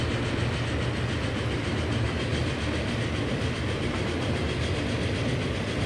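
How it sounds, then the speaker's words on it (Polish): Passenger train running in the Transport Fever video game, a steady rolling rumble with faint clickety-clack over the rails, continuous and fairly loud with no talking. "Ładnie to wygląda, ładnie jest ten pociąg."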